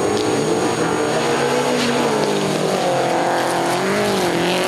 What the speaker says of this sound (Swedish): Det är fem bilar där som slåss om första platsen